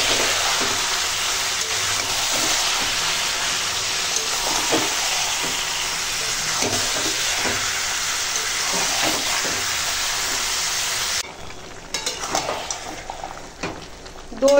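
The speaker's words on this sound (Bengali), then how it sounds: "এখন মাংসটা কষাবো।" Mutton with turmeric and salt sautés in a pan, giving a loud, steady sizzle and crackle of frying that continues throughout, with occasional stirring scrapes and a quieter stretch near the end.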